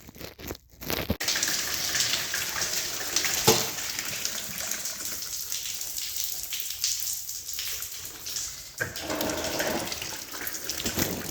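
Antifreeze coolant pours from a BMW N62 V8 engine into a catch container, a continuous close splashing gush running for several seconds with a brief interruption near the start.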